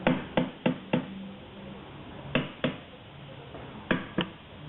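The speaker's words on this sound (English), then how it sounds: "I suggest you hammer on all four sides, just to loosen up the flange from the oils that might get stuck inside." Hammer blows on an angle grinder flange to loosen it, sharp knocking strikes in irregular pairs and groups of three to four, close and fairly loud over a quiet background.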